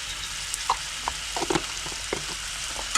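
Ginger garlic paste and cashews sautéing in a pan, a faint steady sizzle with scattered light pops and crackles, close and quiet with no voices.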